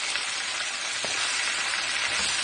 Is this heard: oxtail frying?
yes